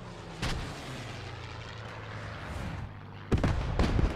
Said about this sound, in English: This is German artillery again.